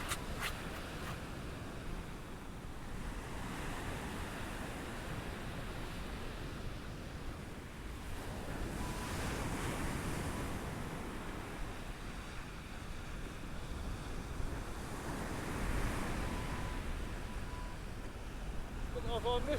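Ocean swell rolling in and breaking on a beach during evening bass fishing, a steady broad wash of surf with gusty wind noise on the microphone and two louder surges of breaking water.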